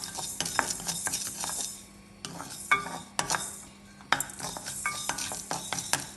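Mustard seeds and fenugreek fry in a pan while a spoon stirs them, giving close, crackling sizzle punctuated by sharp metallic scrapes and clinks in irregular bursts, with no talking.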